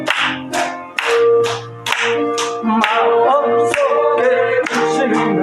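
Steady, rhythmic clapping from a church congregation keeps the beat alongside hymn singing and instrumental accompaniment.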